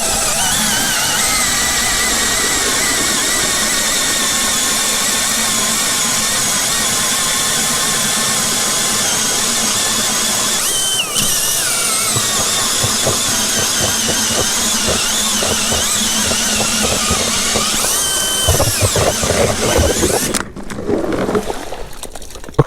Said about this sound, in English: It drilled good. The drill didn't cut out at all on it.